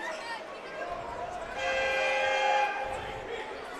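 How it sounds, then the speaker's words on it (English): A train horn sounds from a distance outside a basketball gym during a high school tournament game, a sustained tonal blast rising over crowd murmur and court noise for a couple of seconds. "Is that a train horn down there?"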